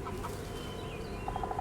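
Chickens in the survival video game Ragnorium cluck in a quick, soft series of calls over a low, steady background drone, with no talking.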